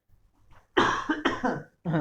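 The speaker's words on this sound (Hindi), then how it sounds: "सॉरी, खांसी आई है" Up close, a person coughs several times in a quick burst, a few sharp hacks followed by one more after a short pause.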